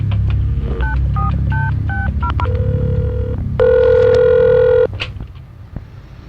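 Quick phone keypad beeps tap out a number, followed by a single long ringing tone, close and clear.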